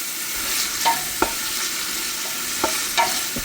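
Chopped onions frying in leftover sausage grease give a steady soft sizzle, broken by a few sharp scrapes of stirring.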